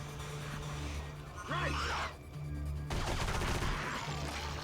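Pistol gunfire in the PS2 game Area 51, a few sharp shots mixed in with game effects, music and someone talking over them.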